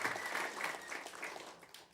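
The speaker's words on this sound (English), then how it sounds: "Please give them a big round of applause." Faint, steady audience clapping in a small concert venue, a soft even patter of many hands heard from a distance, tapering slightly at the end.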